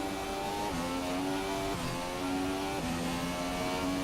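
Formula 1 car engines in the F1 2017 racing game at the Bahrain circuit, a loud high-pitched whine that rises steadily through the gears, dipping sharply at each shift, constant and close with no voices.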